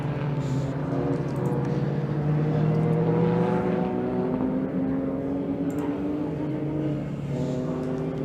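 Ginetta and Porsche race cars lapping Donington Park circuit in dry conditions: a loud, sustained engine drone with rising and falling pitch as the cars pass, continuous throughout with no break.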